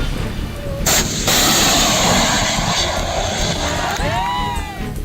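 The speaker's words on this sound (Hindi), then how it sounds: "भारत ने बुधवार को आकाश मिसाइल के नए संस्करण आकाश NG का ओडिशा तट से सफल परीक्षण किया।" Akash NG missile test launch off the Odisha coast: a loud roaring blast of rocket exhaust that rises sharply and holds, then tapers with a whistling tone near the end.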